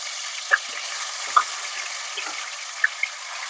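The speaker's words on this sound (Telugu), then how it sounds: "ఇప్పుడు ఆయిల్ బాగా వేడైపోయింది. ఇప్పుడు నేను చికెన్ వేస్తున్నా." Chicken pieces frying in very hot oil for a butter chicken curry, a steady close sizzle with a few soft stirring clicks and no voices.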